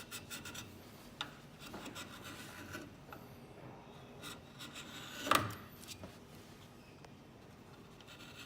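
Chisel scraping and smoothing the wooden heel of a handmade ukulele, quiet intermittent rasping strokes with one sharper, louder scrape midway, close up in an otherwise hushed workshop.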